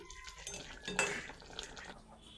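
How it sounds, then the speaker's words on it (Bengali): Metal clanks and scrapes as a pot of egg-and-taro-leaf curry, finished with garam masala, is lifted off the stove, with a brief louder clatter midway over quiet kitchen background. "এবার আমি তরকারি এন নামাই"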